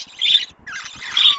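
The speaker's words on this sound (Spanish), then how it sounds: "Miren esa pareja de periquitos" Two bright, warbling chirps from budgerigars in quick succession, close and fairly loud, with no voices.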